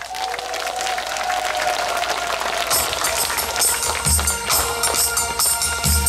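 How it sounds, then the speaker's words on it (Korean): Crowd claps along with a live trot song performed for local residents, handclaps falling in time with the music and beat, mixed with a lively band backing and some cheering. "그럼 박수 함께 시작합니다."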